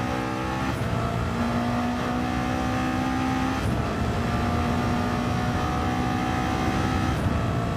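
Race car engines roar in Gran Turismo 7 during a drag race, a loud, steady drone with sustained high-revving tones and a few gear-shift drops and climbs, continuous throughout with no talk.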